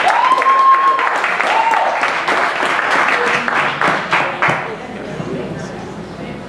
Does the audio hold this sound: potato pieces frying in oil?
no